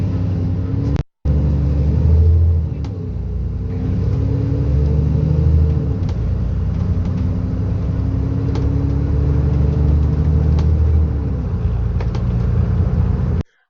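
An Enviro 400 bus with a diesel engine drones loudly and steadily, its pitch rising and then dropping as it shifts through several gears, with a brief cut near the start and no talking.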